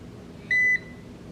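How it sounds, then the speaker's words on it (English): A skincare device gives a single short electronic beep, clear in a quiet room, a steady tone lasting about a quarter second. "So it'll beep and then it tells you to go to the other side."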